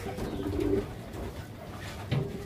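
A pigeon coos softly nearby, two low throaty calls separated by a pause, over a quiet background.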